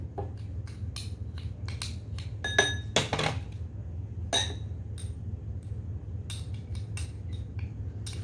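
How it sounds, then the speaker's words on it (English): A spoon clinks and scrapes against a bowl while coffee, honey and coconut oil are mixed, giving a run of light, close metallic taps and chinks with a few louder knocks. "So I will be using this full 1 spoon of coffee, and the same amount would be of honey, and I would mix everything in a bowl."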